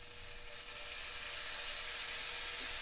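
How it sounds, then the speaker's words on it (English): Fresh orange juice squeezed into a very hot pan hisses and sizzles loudly, a bright, steady frying crackle that builds and holds with no talking over it. "be careful, this will probably sizzle."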